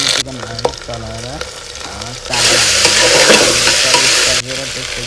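Chicken pieces being stirred and fried with spices in oil for biryani, a steady sizzling hiss with scraping stir strokes; the frying swells louder midway, and a voice speaks briefly over the cooking.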